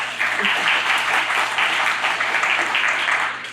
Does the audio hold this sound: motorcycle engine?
no